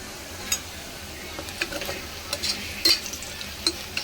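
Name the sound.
onion, chili, garlic and ginger frying and being stirred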